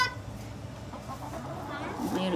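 Chickens being fed on a farm, giving soft, scattered clucks close by over low background noise, with a few brief higher calls near the end.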